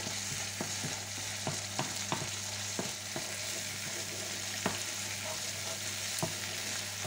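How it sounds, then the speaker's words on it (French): Filling for stuffed round courgettes sautés in a pan, a quiet continuous sizzle with light, regular clicks of stirring over a low steady hum. "Je fais bien revenir"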